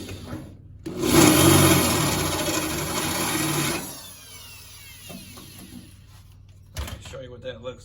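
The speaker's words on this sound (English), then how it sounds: "What we're gonna do is take the drill and just get through the top layer of steel and then stop." Drill with a 1/4-inch bit boring through the top layer of rusty steel on a car toe board, a loud grinding whine lasting about three seconds before stopping, followed by quieter handling noises.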